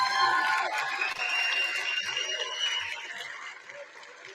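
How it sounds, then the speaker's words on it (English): A crowd at a college athletics hall of fame induction evening applauds and cheers, with whoops and shouts rising above steady clapping, then gradually easing off. "Let's have one more round of applause for Coach Decker"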